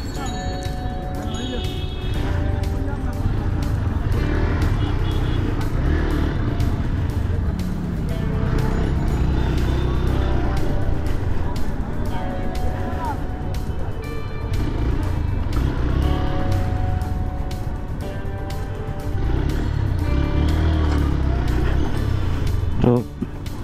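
A modified Honda Hornet 160R motorcycle ridden slowly through narrow lanes, its engine droning steadily beneath someone talking almost throughout, with occasional bell-like chimes.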